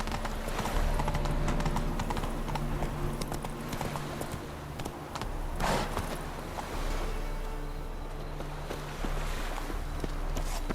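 Roach, the horse in the video game The Witcher 3: Wild Hunt, gallops with steady, rhythmic clip-clop hoofbeats, close and continuous, over ambient game sound in Novigrad.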